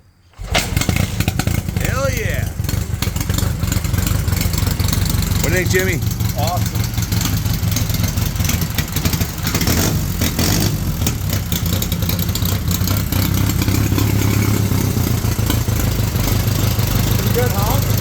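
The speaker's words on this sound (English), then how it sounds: "Go ahead, fire it up, guys." A 1931 Excelsior Henderson KJ motorcycle with dual exhaust starts after decades unused, then settles into a loud, steady idle close by. Excited voices cheer and talk over the running engine.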